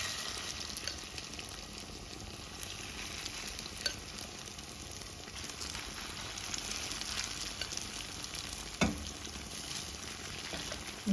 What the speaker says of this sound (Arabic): المقله درت فيها الزيت سخنات، غندير النص ديال البطاطا